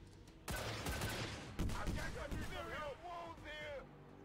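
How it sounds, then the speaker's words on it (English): Rocket fire in the strategy game XCOM 2 Long War 2, heard as sharp sudden blasts with rumbling, crackling explosions that trail into warbling whistles and tones, loud and close, with some speech mixed in. "Rockets."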